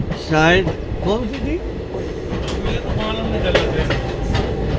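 The Vindhyachal Express superfast train rumbles past at a station near Prayagraj, a steady loud rolling clatter of wheels that continues the whole time, while people talk over it.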